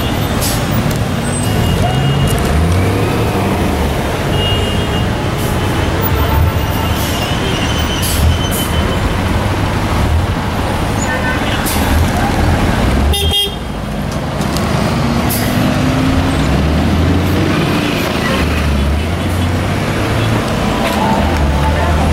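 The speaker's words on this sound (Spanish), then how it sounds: "vamos a ver que pasen los autos y ya podemos avanzar" Loud, continuous street traffic in Lima near the future Estación Central of Metro Line 2, vehicles rumbling past close by with honks and squeals, a brief dip midway, and voices mixed in.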